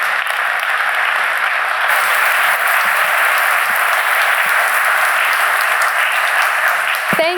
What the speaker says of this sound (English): please give a big round of applause to His Royal Highness the Crown Prince